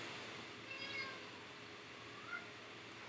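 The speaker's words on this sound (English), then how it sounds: "Oh my god, these cats." Cats meowing in a home kitchen, two or three faint, short mews spread over a quiet background.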